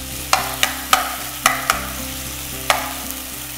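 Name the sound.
stirring chicken pieces in a pan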